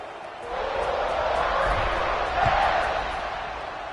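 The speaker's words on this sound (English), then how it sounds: "you think this crowd's going to get loud when their defense comes on the field?" Football stadium crowd swelling into a broad, sustained roar as a kickoff nears, loud and continuous with a slight surge partway through.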